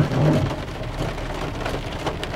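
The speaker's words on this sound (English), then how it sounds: "it looks like there's a pretty cloudless sky, but it's raining all over" Steady rain pours down on a roof and nearby surfaces in a dense, even hiss, close and moderately loud, with no voices over it.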